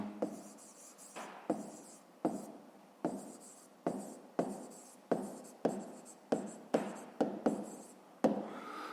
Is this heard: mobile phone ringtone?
no